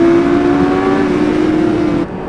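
A steady motorbike engine drone holds a constant pitch while riding through woods in Bavaria, loud and close, then drops off abruptly near the end.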